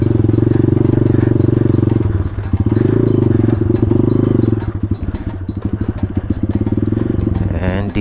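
A motorcycle rides a muddy road on a route from Bulacan to Antipolo, its engine droning loud and close with a steady, throbbing rhythm that loosens into chugging pulses, with light clatter over the rough ground.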